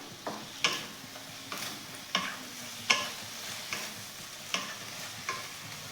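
A spoon stirs yogurt with turmeric, sugar and salt in a bowl, making a series of soft scraping strokes, each ending in a light tap, at a steady unhurried rhythm.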